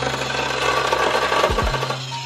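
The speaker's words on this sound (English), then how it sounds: "This body saw is turning out to be a rather piece of shit and it's not wanting to work correctly" A pneumatic body saw cutting into a Foxbody car body, loud and close: rapid, rough buzzing and chattering reciprocation that holds steady, then shifts pitch near the end as the tool strains.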